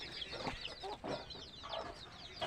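Free-roaming hen with her chicks, soft repeated clucking mixed with high, thin peeping chirps, close and fairly quiet.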